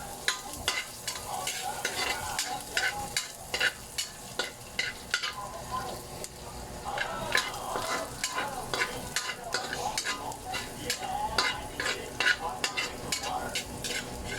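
Garlic sautés in oil in a pan with a continuous close sizzle, broken by frequent rhythmic scraping of a spatula stirring throughout, with no talking.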